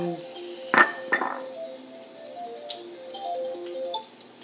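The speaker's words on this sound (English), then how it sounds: "I put anything that I've washed into the other bowl" Washed oysters dropped into a bowl in a home kitchen, making a bright clink followed by a second knock, then softer shell rattles and dripping water.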